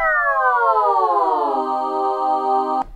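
A single Klevgrand Pipa vocal synth note with a pitch envelope that starts higher and glides steadily down for about a second and a half, then holds a bright, buzzy sustained pitch before cutting off abruptly.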